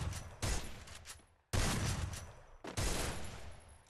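Gunfire in the mobile shooter Free Fire comes in three sharp bursts of rapid shots, loud and close, each fading before the next begins.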